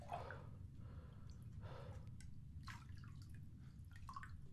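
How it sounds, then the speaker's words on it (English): Water drips slowly and faintly, a few separate drops over a low rumbling ambience in the horror game Silent Still. "I love the sound of water"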